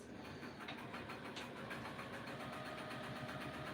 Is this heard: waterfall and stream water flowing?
no